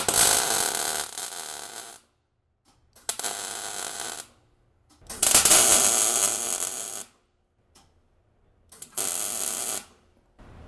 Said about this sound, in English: I'm gonna hide my little tack welds behind.